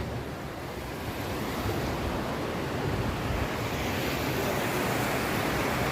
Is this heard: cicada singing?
no